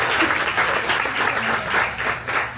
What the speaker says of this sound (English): let's all do a cheer for Menka.